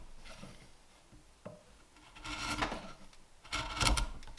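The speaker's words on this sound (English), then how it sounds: "an inch wide chisel just to pare down these sides and make sure that they are all smooth" An inch-wide chisel pares down the sides of a wooden piece for a pole lathe, giving close, rough rubbing and rasping scrapes that grow louder in a few strokes toward the end.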